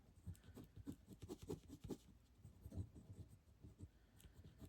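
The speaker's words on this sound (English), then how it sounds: "I'm pushing much harder on my pencil." Pencil scratching firmly across paper in quick, uneven strokes, close up and fairly quiet, with no talking.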